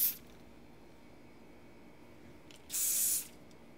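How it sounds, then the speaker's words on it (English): Hairspray misted over a finished bridal updo: one short, close hissing burst of aerosol spray lasting about half a second after a near-silent pause, with no talk. "And now we just give it a final spray."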